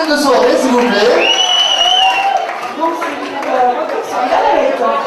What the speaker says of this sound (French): Applaudissons le deuxième capitaine de soirée, s'il vous plaît.